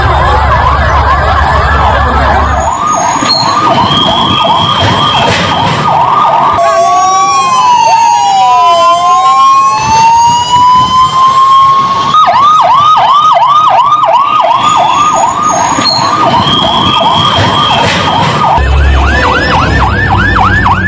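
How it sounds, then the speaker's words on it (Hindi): Fire engine sirens wail loudly and continuously as the vehicles arrive at a plane crash site where buildings are burning, with overlapping rising-and-falling tones, yelping cycles and a horn blast at the start and end. "देखिए फायर ब्रिगेड की गाड़ियां मौके पर पहुंचने लगी"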